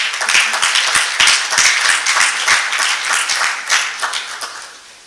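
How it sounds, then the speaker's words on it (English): An audience at a science academy induction ceremony applauds a professor with sharp, brisk clapping that holds steady for several seconds and then tapers off. "Please, a round of applause for him."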